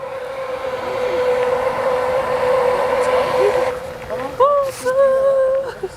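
An antique train that once carried prisoners to the Tierra del Fuego prison in Argentina rolls past with a steady, droning mechanical hum. Nearby voices start talking toward the end.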